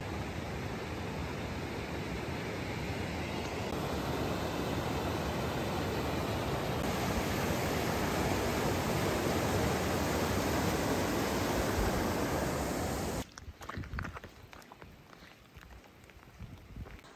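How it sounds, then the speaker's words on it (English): Steady rain falls on a mountain trail in the high Sierra, a dense, even hiss that holds for about thirteen seconds before breaking into rustling, uneven sounds close by. "Guess what? It's raining again."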